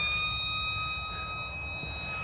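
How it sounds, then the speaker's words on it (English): A police siren wails steadily and loudly from nearby on a hot, humid day, holding a sustained high tone with no talk over it. "That's the sound of the police."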